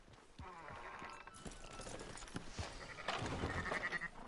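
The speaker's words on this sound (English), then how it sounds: "Fine sheep." Sheep bleating in Red Dead Redemption 2, several wavering bleats over a flock's shuffling and hoof noise, with a louder burst of bleats toward the end.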